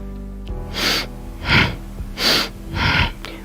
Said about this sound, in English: I want to hear your breath.